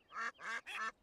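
Cartoon ducks quacking on a railway track beside a train, three quick nasal quacks in a row, close and clear with nothing else beneath them.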